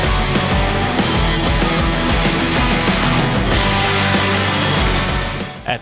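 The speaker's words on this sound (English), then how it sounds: "Use the 10mm socket to thread in the nut further" A 10mm socket ratchet threads a nut onto a running board bolt on a 2007-2014 Chevy Silverado, a dense, steady mechanical clatter that runs continuously at close range and breaks off near the end.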